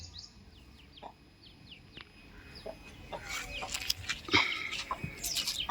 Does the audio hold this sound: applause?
no